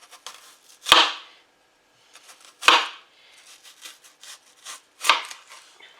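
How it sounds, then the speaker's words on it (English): A knife cuts through a large Vidalia onion in three sharp, evenly spaced chops against a board, with faint scraping and tapping between strokes and no talking. "I'm cutting a Vidalia onion a little bit, probably about a half of this because it's a big onion"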